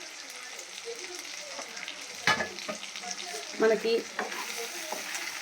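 Drumstick and raw mango pieces with fenugreek seeds fry in a curry pan, giving a soft continuous sizzle broken by a few sharper scraping stirs; a voice speaks briefly over it.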